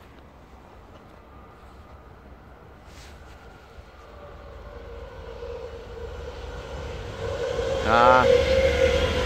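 A train arrives, heard as a low rumble that builds steadily louder over several seconds and ends with a squealing screech as it draws near, while a voice briefly speaks.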